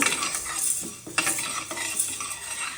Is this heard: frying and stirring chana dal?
yes